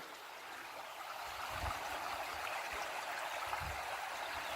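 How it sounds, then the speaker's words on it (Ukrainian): A small river flows steadily past farmland, a soft, continuous wash of running water heard from nearby, even and unbroken, with faint low bumps and no voices. "тече річка невеличка"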